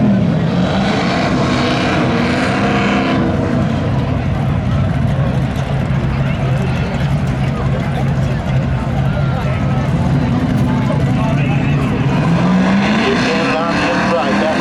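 A Chevy Malibu and a Pontiac Trans Am drag race side by side at a speedway spectator drags event. Both engines roar steadily and loudly throughout, with the pitch rising as they accelerate down the strip.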